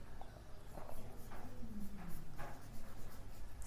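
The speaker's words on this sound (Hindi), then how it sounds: "तो मैं लिख रहा हूँ फॉलोइंग फैक्टर्स" Chalk or marker writing on a classroom board during a chemistry lesson, heard as short scratchy strokes and taps in irregular bursts, fairly faint against a low room background, with no one speaking.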